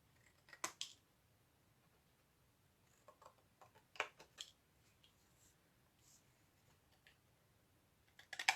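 Scissors snip the corners of folded paper at an angle, making sparse, soft crisp clicks spaced a second or so apart in a quiet room, with no voices.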